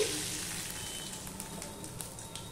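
Panch phoron spices crackle and sizzle in hot oil in a home kitchen while pumpkin shaak is being made, a soft continuous fry with faint scattered pops.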